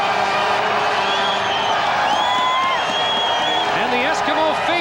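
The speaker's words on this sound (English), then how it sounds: "And the Eskimo faithful cheering" Edmonton Eskimos fans in a CFL West Final stadium at Calgary cheer a touchdown in 1992, a steady loud roar of crowd noise with scattered whoops, while a commentator talks over it.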